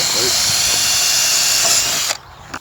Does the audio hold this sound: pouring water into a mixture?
no